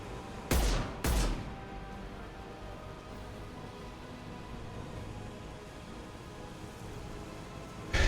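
Two heavy blasts of rocket launcher fire boom close together in Mass Effect 2, followed by a low rumbling background and another burst at the very end.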